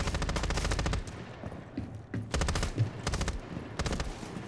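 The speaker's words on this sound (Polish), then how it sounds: "Gdzie on strzela?" Loud bursts of rapid automatic gunfire in Rainbow Six Siege X, several close volleys separated by short pauses, with a few single shots between them.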